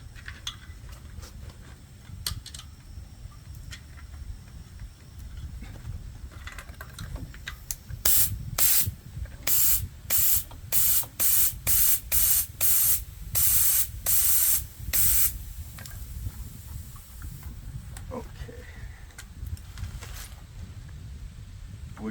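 Air hissing into an e-bike rear tire from a compressor in a series of about a dozen short, loud, evenly spaced bursts, with quieter workshop handling noises before and after.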